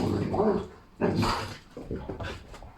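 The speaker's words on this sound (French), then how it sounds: "il commence à grogner plus fort" A dog growls and whines close by in low, rumbling bursts that swell and fade, with a person's voice overlapping at times.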